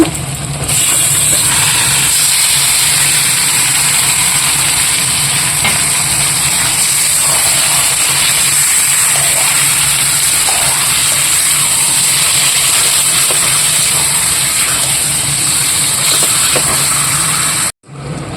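Chicken fries in hot oil with panch phoron, bay leaves and fried onion, making a loud, continuous bright sizzle that holds steady for the whole stretch before cutting off abruptly at the end.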